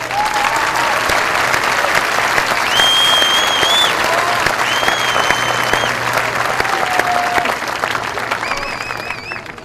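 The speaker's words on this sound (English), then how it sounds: "please give you a round of applause" A large crowd at a 2015 high school commencement gives a sustained round of applause for the graduating class, dense clapping with cheers and whistles rising above it, slowly tapering toward the end.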